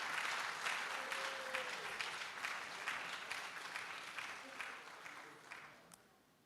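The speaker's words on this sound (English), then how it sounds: "Please, you can stand for us to applaud you." An audience at an international conference on climate change resilience and rural transformation applauds a presenter, a dense burst of clapping that starts loud and gradually thins and fades over several seconds.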